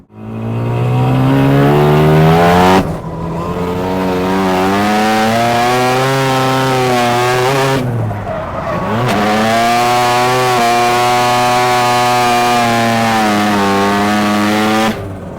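Drift car at a D1 regional round at Mobara Twin Circuit, its engine revving hard and close with sweeping pitch changes, two sharp throttle lifts, and a slight bogging down at times.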